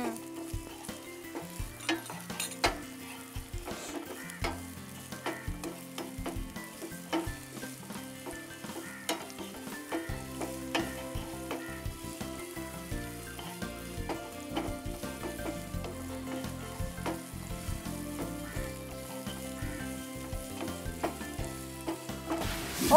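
Onion and capsicum sauté in a pan with a low, steady sizzle, broken by a long run of irregular clinks and scrapes from stirring. It stays close and fairly quiet throughout, with no voices.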